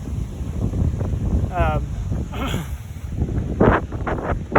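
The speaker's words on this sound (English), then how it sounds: "this wind is so bad." Strong wind buffets the microphone outdoors on a walk across Kansas, a loud continuous low roar with gusts, a voice speaking faintly underneath.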